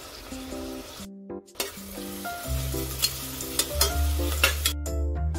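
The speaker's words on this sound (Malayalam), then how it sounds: "ഒരു സവാള അരിഞ്ഞെടുത്തത്, കുറച്ച് ഉപ്പും മഞ്ഞൾപ്പൊടിയും കൂടി ഇട്ട് ആദ്യം നമുക്ക് ഇതിനൊന്ന് വഴറ്റിയെടുക്കാം" Chopped onion sautéing in a pan with salt and turmeric, a steady sizzle broken by spoon stirs and scrapes, close and continuous with no talk.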